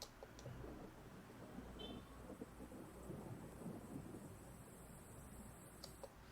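A thunder Foley effect in a song intro: a steady, low rumbling roll with soft rain-like hiss, holding at a constant level throughout with no voices.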